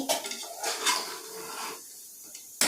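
A spoon stirring biryani in a metal pot gives a few sharp scrapes and clinks, bursts of metallic clatter separated by brief quiet gaps.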